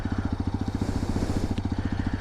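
A liquid-cooled 200cc motorcycle rated at 24 bhp and 20 Nm runs up close with a steady, even chugging pulse that stays constant throughout, with no voices.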